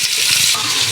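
Tomatoes hit a pan of onions and green bell peppers frying until golden brown, giving a loud, close, bright sizzle that runs without a break through the short moment.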